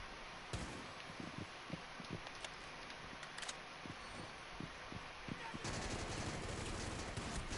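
Gunfire from Thermite's weapon in Rainbow Six Siege: a string of separate sharp shots at a moderate, uneven fire rate, fairly quiet under a steady game background, with a denser burst of noise near the end and a voice faintly present.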